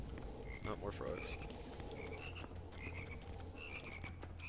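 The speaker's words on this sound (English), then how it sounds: "Not more frogs." Frog enemies in the first-person shooter game Immortal Redneck croak in a string of short, repeated calls over a steady low game hum, with no voices during the clip.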